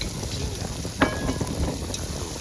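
Tomatoes frying in hot oil in a pan, a steady close sizzle with crackling throughout and one sharper pop.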